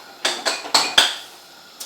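A pot of boiled rice is lifted off the stove heat, with a quick series of four sharp metallic clanks a moment apart and then a single faint knock. Close and alone, with no talk.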